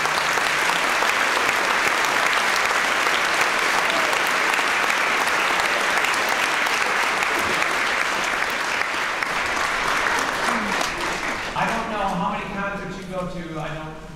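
Sustained loud applause from an audience at a junior high Christmas choir concert, welcoming the choir teachers; steady dense clapping fills the hall, then thins out and fades as a voice begins speaking near the end.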